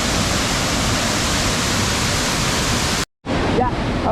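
Fairy Creek Falls near Fernie, British Columbia, roars as a steady, loud broadband wash of falling water for about three seconds, then cuts out briefly before resuming with faint voices underneath.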